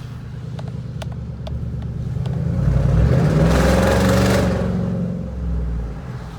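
A car with true dual exhaust revs among buildings, its rumble swelling into a loud, echoing roar midway before easing back down, with a few sharp clicks early on.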